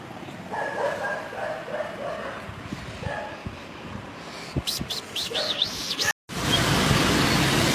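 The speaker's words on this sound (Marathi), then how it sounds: "हे स्कुबी कुत्र्यांवर भुकते" A dog barks several times in short, irregular bursts, some sharp yips, over background noise, followed by a brief cut and a steady rushing hiss.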